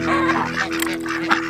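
Farm geese kept near a barn and camper honk in a few brief, nasal bursts over a steady low hum. The calls are moderately close and unaccompanied by speech.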